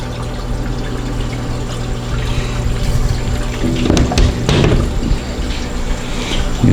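Water flows steadily through an aquarium sump system in a fish room, a continuous close rushing trickle with brief louder splashing surges midway.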